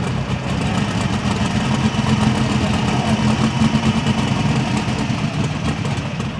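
A diesel pulling tractor called Under the Influence, out of Science Hill, Kentucky, idles after its run at a truck and tractor pull, giving a steady, loud, low rumble that holds level throughout with no talk over it.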